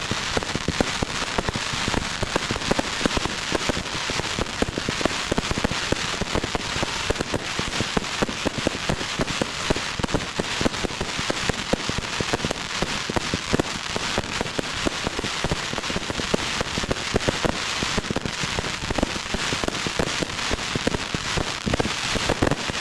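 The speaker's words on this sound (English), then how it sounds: "I've speeded up my landed footage to reduce the fireworks duration down to 25 seconds." Vivid Pyrotechnics Cataclysm fireworks in sped-up footage, producing a dense, continuous barrage of crackling bursts and pops that stays loud and unbroken throughout.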